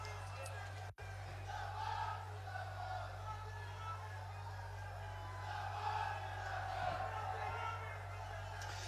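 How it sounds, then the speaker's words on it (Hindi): Crowd at a BJP political public meeting in Amethi, Uttar Pradesh, a steady roar of cheering and applause from a large outdoor gathering, moderately loud and sustained throughout, with an electrical hum beneath. "श्री दुर्गेश त्रिपाठी जी को जोरदार तालियों के साथ स्वागत।"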